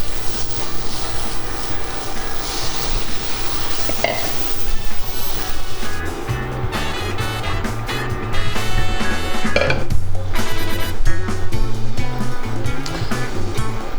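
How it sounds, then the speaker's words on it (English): Milk being whisked into a bechamel sauce for ham croquettes, a loud continuous sizzle and bubbling with a steady whisking rustle and occasional clinks, without talking. "And then you kind of whisk it to combine it."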